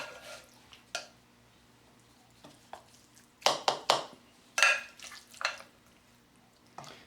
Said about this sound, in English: So what I'm going to do is I'm going to plate this out